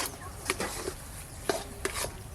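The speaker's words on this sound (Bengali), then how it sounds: "শিমদানার যে জলটা আছে এইভাবে নেড়ে নেড়ে একটু শুকিয়ে নেব" Spoon or spatula stirring soaked bean seeds in a pan to cook off the water, several distinct scraping knocks against the metal over a soft background sizzle, close and alone.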